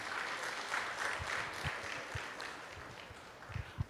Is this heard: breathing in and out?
no